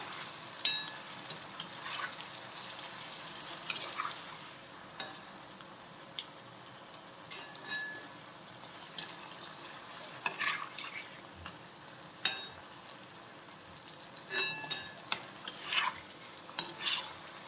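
Mango pieces frying in oil for pickle, a faint, steady sizzle beneath frequent light scrapes and clicks of stirring.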